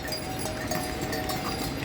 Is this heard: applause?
no